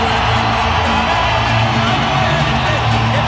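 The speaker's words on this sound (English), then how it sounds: "The crowd rises" A boxing arena crowd roars and cheers as fighter Fernando Vargas enters, a dense, sustained wall of loud crowd noise throughout.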